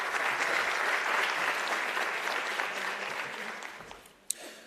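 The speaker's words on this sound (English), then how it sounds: "So a round of applause for..." An audience at the BRICS Youth Trade Convention hosted by NYDA gives sustained applause. It starts strong and fades gradually toward the end, and a single sharp knock comes near the close.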